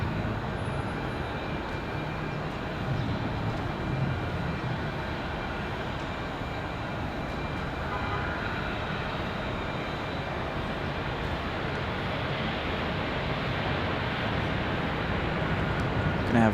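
An American Airlines Airbus A321 from Charlotte roars with a broad, steady engine rush at Raleigh-Durham International, holding loud and unbroken throughout with gusting wind noise mixed in.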